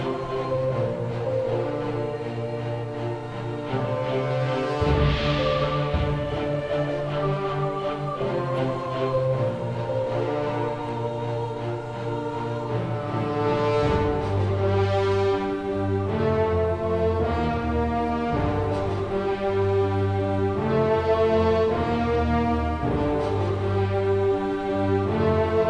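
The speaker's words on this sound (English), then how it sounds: "You can probably hear that little nod to the original NES music in the background here" Chiptune-flavoured game music from the 2014 Shadowgate remake, echoing the original NES soundtrack, plays steadily and fairly loud throughout with layered melodic lines and a driving bass, no voices over it.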